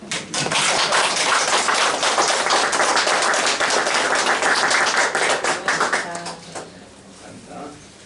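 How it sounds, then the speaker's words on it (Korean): A church congregation at a Korean Sunday worship service in Rosario, Argentina claps in encouragement for an elder, a dense burst of hand claps that holds steady for about six seconds and then tapers into scattered claps. "격려의 박수."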